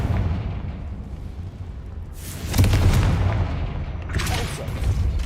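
A Confringo fire spell explodes in the video game Hogwarts Legacy, a deep booming blast swelling over rumbling game ambience, with a second rush of noise following a moment later.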